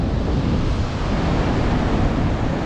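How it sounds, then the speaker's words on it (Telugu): Ocean waves roll where the Godavari river meets the Bay of Bengal at Antarvedi, a loud, continuous rushing roar of surf mixed with heavy wind buffeting, close and unbroken. "ఈ అలల ప్రవాహం చూస్తుంటే చాలా భయంకరంగా ఉంది."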